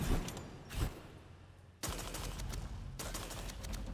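A fish deity weapon in the Abyssus video game fires magical vomit, loud gushing blasts in two long bursts separated by a brief lull, with a short spurt before them.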